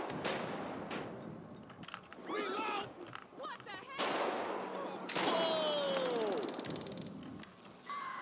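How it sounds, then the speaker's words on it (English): Gunfire in GTA 5 with the LSPDFR police mod during a gang task force patrol: several sharp bursts of shots broken by pauses, mixed with shouting and a rising siren-like wail, voices talking throughout. "Control, shots fired!"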